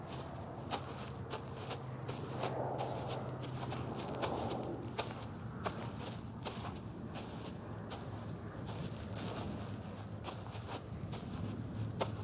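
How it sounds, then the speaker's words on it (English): Footsteps crunch steadily through snow, a regular walking rhythm of soft, close steps continuing over a low constant background hum, with no talking. "the only sound heard was our footsteps in the snow"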